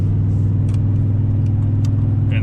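A truck towing a heavy, empty trailer over a road, with a steady loud engine and road rumble and a continuous low droning shake throughout, no voices.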